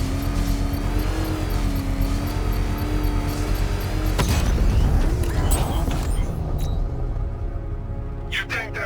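A controlled bomb explosion in Batman: Arkham Knight sets off a sudden broadband blast with a rumbling tail, rising out of a steady low game hum and vehicle drone, with voices talking underneath.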